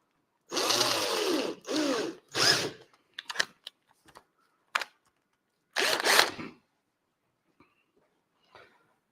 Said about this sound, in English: There's going to be some drilling and some noise.